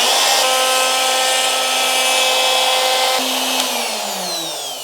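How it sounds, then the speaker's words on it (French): Handheld router cutting around a wooden Telecaster guitar headstock, a steady loud whine with strong tonal hum that shifts pitch and winds down near the end, no voices. "Quand on met aussi la défonceuse dans le bon sens, c'est mieux aussi."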